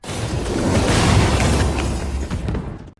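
A bomb blast in a film: a loud, broadband explosive rumble and roar that fills the whole clip, then cuts off abruptly near the end. No voices.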